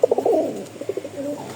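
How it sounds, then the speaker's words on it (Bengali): Pigeons of a flying breed kept for sale coo repeatedly at close range, a run of soft, throaty, rolling calls in quick succession with short pauses between phrases and no talking. "তো এই হচ্ছে কবুতর"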